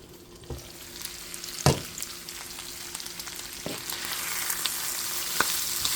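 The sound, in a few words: food frying in a pan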